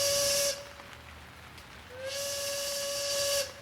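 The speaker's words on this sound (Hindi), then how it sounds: "और बस उसी पर ट्रेन की सीटी बजती है।" Steam train whistle sounds twice, a short hissing blast and then a longer sustained shriek, loud and near, with a low rumble between the blasts.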